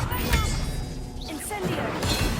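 A fire spell is cast in the Hogwarts Legacy video game, giving a sharp whooshing burst and crash amid continuous game sound effects, with a voice calling out over it.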